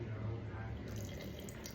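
Ordinary tap water runs from a kitchen faucet in a steady, quiet stream for a short moment, with faint background hum and no voice.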